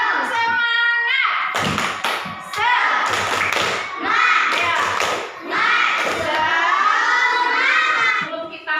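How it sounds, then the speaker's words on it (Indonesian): A class of children at an Indonesian school performs a rhythmic spirit clap, loud bursts of patterned clapping alternating with children's chanting voices. "Tepuk semangat."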